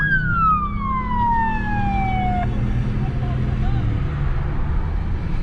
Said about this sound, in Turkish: Şu anda ambulansa yol açtım aslında gelmesi lazım.